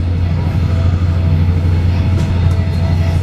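Loud, steady low rumble inside a moving train carriage in Switzerland, with a constant deep drone and faint rattles, no voices.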